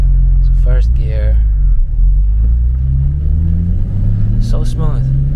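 A BMW E34 M5 with an upgraded standalone ECU driving in first gear, its engine a deep steady rumble that climbs in pitch as it accelerates, heard from inside the car with brief voices over it.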